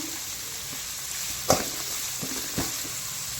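Vegetables fry lightly in a pan for street-style Gobi Manchurian, a steady soft sizzle with two brief knocks of a stirring spoon against the pan.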